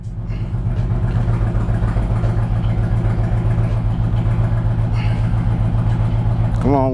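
A Dodge Challenger engine idles with a deep, steady rumble, loud and close, holding an even low throb throughout, with a brief rising whine right at the end.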